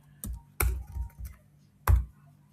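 A few sparse keystrokes on a computer keyboard, close and isolated, with short quiet gaps between the taps.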